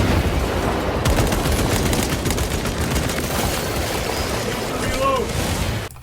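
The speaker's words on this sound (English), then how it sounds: "Frag grenade deployed." Dense, roaring gunfire and explosions from the video game Space Marine 2, including a frag grenade blast, a continuous loud barrage of battle noise that cuts off abruptly at the end.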